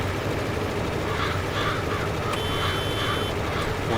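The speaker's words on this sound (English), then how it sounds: "Watch out, crows." Crows caw a few times in the Farming Simulator video game, harsh calls rising over a steady, loud background rumble of machinery and ambience.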